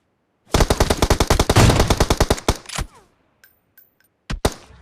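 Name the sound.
gunfire in the video game PUBG Mobile, AWM sniper rifle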